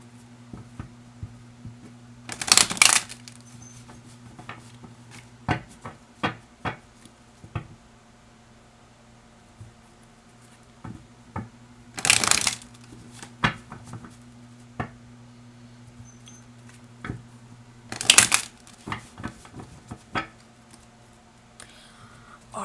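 A tarot card deck being shuffled in three short, crisp riffling bursts, close and fairly quiet, with light taps and handling clicks between them and a steady low hum behind.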